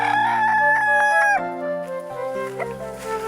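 A rooster crows loudly up close in a long, drawn-out call on a farm, with chickens clucking beside it as the crow fades, and nobody speaks.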